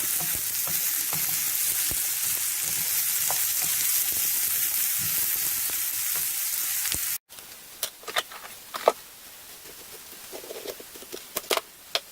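Food sizzles steadily in a hot pan for several seconds, then the sound cuts to quieter crackles and occasional stirring clatters.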